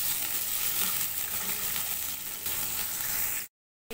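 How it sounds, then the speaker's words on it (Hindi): Two sliced onions fry in a kadai for dhaba-style kadai paneer, a steady, close sizzle with faint stirring that cuts off abruptly near the end. "यहाँ पे हमने 2 ऑनियन लिया है उसका स्लाइसेस, इसको थोड़ा सा फ्राई करेंगे।"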